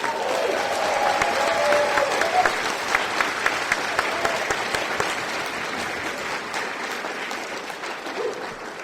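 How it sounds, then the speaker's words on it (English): A banquet audience at a DoubleTree Hotel gaming convention bursts into sustained applause. Crowded clapping runs strong for several seconds, then gradually thins and softens toward the end, with a brief voice near the start. "give a quick round of applause to the staff here at the DoubleTree"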